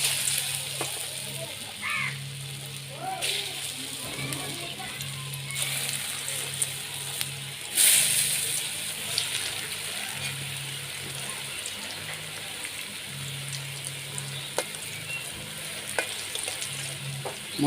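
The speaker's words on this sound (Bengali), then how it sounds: "বাকি ধোকাগুলো এভাবেই ভেজে নেব।" Dhoka lentil cakes fry in oil with a steady, moderate sizzle and occasional bubbling bursts over a low background hum.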